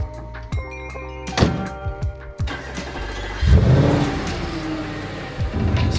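A 2013 Audi RS5 fitted with a K&N air intake is started and driven off, with door thunks and clicks before the engine fires and revs loudly close by, settling into a mid-pitched idle and pulling away.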